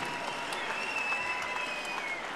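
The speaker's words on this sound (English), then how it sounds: "a big round of applause to both fighters" An arena crowd applauds both boxers after a main event fight, a dense steady roar of clapping with faint whistles riding over it.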